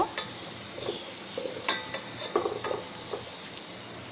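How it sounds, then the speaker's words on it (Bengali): Onion lightly frying in ghee for a chicken biryani, a low sizzle with intermittent spoon scrapes and clinks against the pan, close and quiet, with no voices. "আমি পেঁয়াজটা বেশি ভাজবো না, হালকা ভেজে নেব"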